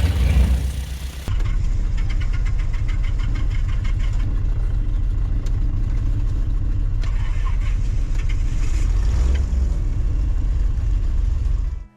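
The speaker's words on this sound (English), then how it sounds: "giving us an excellent view as the engines come to life." Piston engines of a small propeller airliner start up and settle into a steady, loud droning rumble heard from the cabin seats just behind the pilots, continuous and unbroken with no talk.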